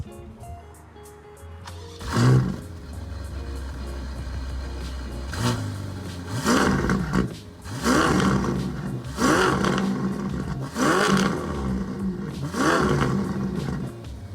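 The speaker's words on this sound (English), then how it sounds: "The car sounds amazing. It sounds so good, but I'm not going to rev it too hard. That was just a little blip." A Ferrari Portofino fires up with a sharp starter burst and roar, then settles into a deep idle punctuated by several loud throttle blips, each rising and falling quickly, close by with no talking.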